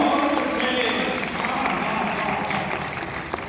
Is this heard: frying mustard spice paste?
no